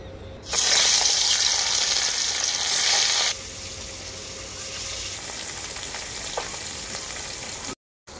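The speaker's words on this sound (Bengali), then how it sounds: "তেলটা খুব ভালোভাবে গরম হয়ে গেছে, মাছগুলো ভেজে নেব।" Bata fish hiss and sizzle loudly the moment they drop into hot oil, a bright crackling spray that eases to a steadier, quieter fry, then cuts off abruptly near the end.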